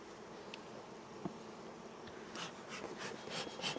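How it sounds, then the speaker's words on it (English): A steady low drone of buzzing honey bees throughout, with higher buzzes sweeping past near the end as bees fly close. "There's a good amount of bees"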